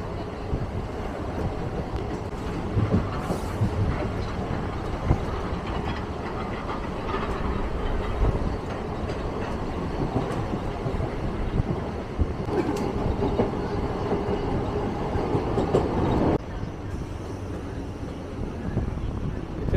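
A freight train runs along the Uran railway line with a continuous, fairly loud rumble and rhythmic clatter of wagons that holds steady throughout, then eases slightly near the end.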